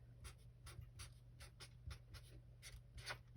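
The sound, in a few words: handwriting in capitals with a pen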